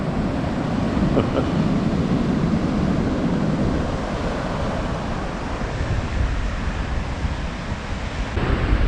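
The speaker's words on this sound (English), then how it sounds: "the wind that's blowing in off the ocean" Steady wind buffeting a microphone at a Florida beach near St. Augustine, mixed with a continuous wash of ocean surf; a broad, constant roar with no talking.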